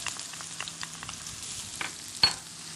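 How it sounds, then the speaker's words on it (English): Thinly sliced scallions, green parts mostly, and a garlic clove sauté in about a quarter cup of vegetable oil on an outdoor griddle, giving a soft, steady sizzle with a few faint utensil scrapes and one brief clack. "put about 1/4 cup of vegetable oil and saute quickly 4 scallions, the green parts especially, very thinly cut"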